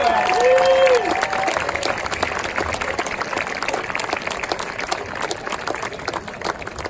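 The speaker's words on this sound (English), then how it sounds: "Ladies and gentlemen, please give these students a warm round of applause." An audience at a middle school promotion ceremony gives students a warm round of applause, steady crowd clapping that starts loud and eases slightly, with a brief tonal sound near the start.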